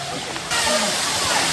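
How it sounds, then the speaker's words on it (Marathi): A small waterfall pouring down, its broad steady rush of falling water switching on abruptly and continuing loud and close, with possible voices faint beneath it. "तर मंडळी आपण आलो आहे आता धबधबा बघण्यासाठी. मग ते वरनं खाली पडत आहेत आता."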